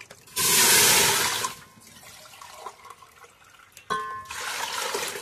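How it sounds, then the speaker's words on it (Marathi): Water poured from a small pot into a kitchen mixer jar holding tomato and chillies, two loud splashing pours separated by a quieter gap, close and without talk. "हे बघा आपण 3 तांब्या पाणी टाकून घेणार आहे"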